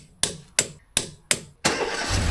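Mercedes W245 B-Class engine starting after a starter repair: four sharp, evenly spaced starter cranks, then the engine catches and settles into a steady idle, close and moderately loud.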